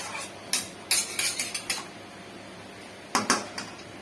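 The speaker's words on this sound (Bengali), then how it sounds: "আবার একটু নেড়ে দেবো, একটু কষুন" A metal spoon stirs Bengali rui fish curry in a pan, knocking and scraping against the sides in short, sharp clinks. The hits come in two irregular bursts separated by a brief quiet stretch, close by and fairly crisp, with no talking.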